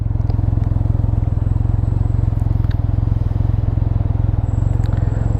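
A Can-Am Ryker three-wheel motorcycle rumbles along on an open-air ride for ice cream, a loud, fast, even engine pulse throughout with faint wind and small clicks over it.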